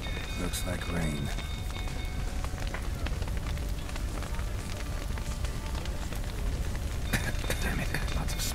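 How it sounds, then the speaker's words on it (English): Steady rain pattering in the Witcher 3: Wild Hunt game world, a continuous even wash of drops throughout, with a voice speaking over it and occasional louder ticks and crackles. "Looks like rain"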